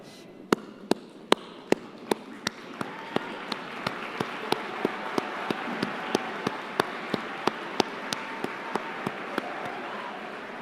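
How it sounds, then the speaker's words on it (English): Graduates at the Clarke University commencement applauding their supporters, a sustained wash of crowd clapping in a large hall, punctuated by a regular series of sharp, loud individual claps close to the recorder. "please rise and give your supporters a round of applause"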